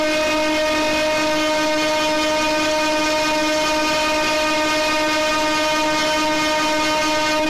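A 189 series train sounding a long, steady horn blast at a station as it departs, a loud sustained harmonic tone lasting through the whole stretch.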